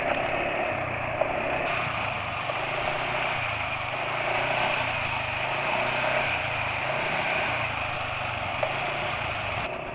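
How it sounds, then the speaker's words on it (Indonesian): Rough-running engine, a motor on worn Castrol Magnatec oil at 80 km since the change, drones steadily and fairly loud throughout with a harsh, uneven idle-like note and no talk. "Jelas bahwa suara mesin sekarang wis kasar, RPM mesin juga cepat turun"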